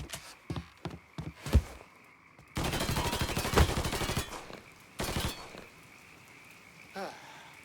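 Gunfire in the video game Mafia III: bursts of rapid automatic shots and single cracks, loud and close, separated by short pauses, with a voice talking in between.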